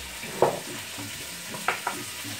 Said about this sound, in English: you can hear that chicken sizzling up nice